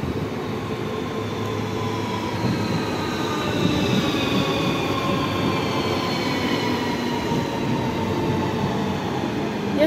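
A Moscow rail train pulls into a station with a loud, continuous rumble of wheels and carriages. Faint metallic squealing runs over the rumble for the whole stretch.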